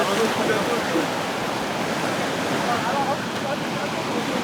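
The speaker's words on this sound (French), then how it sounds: "Les surfeurs, des jeunes du village, flirtent avec les vagues." Ocean waves washing against a rock off Sassandra, where young surfers from the village ride the swell: a loud, continuous roaring surf that stays dense and steady throughout without a break.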